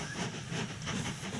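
A train running in the railway-building video game Mashinky, a steady rolling rumble with hiss and faint clatter throughout, moderately loud and alone with no voices.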